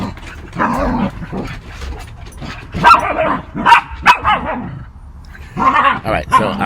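Several dogs bark, yip and whimper in bursts while playing indoors at a house, the sharp barks close and irregular, with gaps between flurries.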